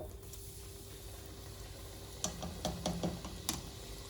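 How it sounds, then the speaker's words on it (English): One donut deep frying in a pot of hot oil, a steady low sizzle with a few sharp ticks and pops from the bubbling fat, fairly quiet and close. "I'm going to start by putting one donut into the boiling oil."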